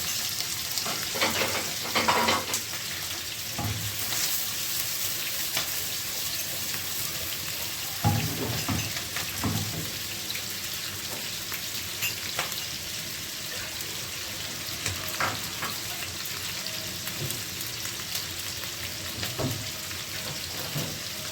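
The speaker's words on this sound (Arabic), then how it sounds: "هنبدأ ننزل فيها البصل بتاعنا،" Onions fry in hot fat in a pan with a continuous, fairly loud sizzle and hiss, broken by occasional stirring clicks and scrapes close by, with no voices.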